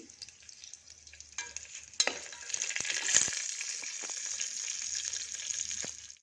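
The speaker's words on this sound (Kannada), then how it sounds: "ಸಾಸಿವೆ ಕಡಲೆಬೇಳೆ ಜೀರಿಗೆ ಹಾಕ್ತೀನಿ ಅದೆಲ್ಲ ಫ್ರೈ ಆದಮೇಲೆ ಈರುಳ್ಳಿ ಹಾಕೋತೀನಿ ಇದೆಲ್ಲ ಸ್ವಲ್ಪ ಚಟಪಟ ಅಂತ ಸಿಡಿಲಿ" Mustard seeds, chana dal and cumin crackle and spit in hot oil, a dense steady sizzle with scattered pops that swells after a stir clatter and continues close and loud, no voices.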